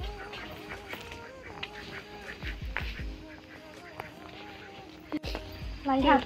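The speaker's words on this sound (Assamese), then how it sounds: "এই হাঁহৰ মাত এপিনে" Ducks quack now and then in the background while a person talks over them outdoors, the calls fairly faint and scattered.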